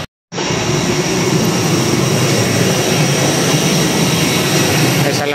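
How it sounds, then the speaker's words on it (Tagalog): A steady, loud broadband roar of jet engines from a Cebu Pacific airliner fills the air while passengers board at Kuala Lumpur, starting abruptly after a brief silence and holding constant throughout. "papasok ka tayo ng aeroplano"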